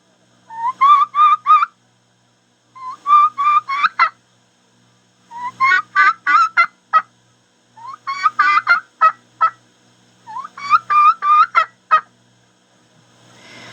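A hand-worked turkey call imitates the kiki run of a lost young turkey: rising whistles breaking into yelps, repeated in five or six close, clear bursts with short pauses between.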